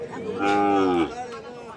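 A cow, among Sahiwal heifers at a cattle market, lets out one long, loud moo close by, while a crowd murmurs faintly in the background.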